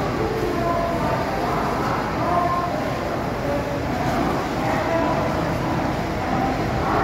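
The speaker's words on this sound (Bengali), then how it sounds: "12:28 ট্রেন আমাদের ঢুকছে" The Howrah–Adra–Bokaro Steel City Express rolls into platform 20 at Howrah station, a continuous loud rumble of wheels and carriages heard from on board or close by, with faint voices underneath.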